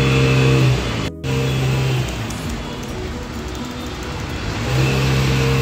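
Road traffic heard from inside a house makes a loud, continuous engine rumble. One vehicle passes close near the start, a brief dip follows, and the rushing noise then rises again toward the end, with no talking.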